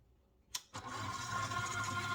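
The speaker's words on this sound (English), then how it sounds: "And when I first start the KitchenAid, anybody who has a KitchenAid knows this works like that." A KitchenAid stand mixer clicks on in a home kitchen while making pizza dough, a sharp switch sound followed by a steady motor hum that keeps running, fairly quiet and close, with no talking.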